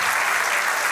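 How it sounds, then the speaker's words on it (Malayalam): Students at a school ceremony applaud in a dense, steady burst of clapping, loud and close, lasting the whole moment without any voices. "വിദ്യാർത്ഥികളുടെ കയ്യടി ചടങ്ങ് പോലെ ആവേശമായി മാറി"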